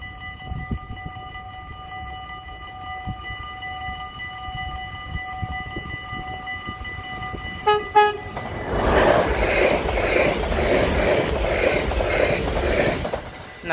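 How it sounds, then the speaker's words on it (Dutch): A yellow SNG passenger train sounds its horn in a steady multi-tone blast lasting several seconds, with a short burst at the end. The train then passes close by with a loud, broad rumble and rattle of wheels. "tweede toeter ook weer in de pocket."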